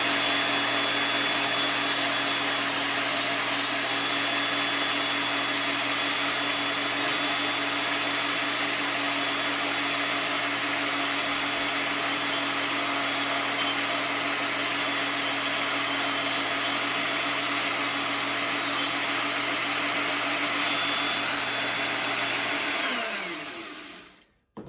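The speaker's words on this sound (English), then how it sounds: "I'll go back with my Dremel and just kind of clean that up right across there" A Dremel rotary tool whines steadily at high speed while cleaning up metal on a Daisy Red Ryder BB gun being made into a mare's leg, loud and close for over twenty seconds before spinning down at the end.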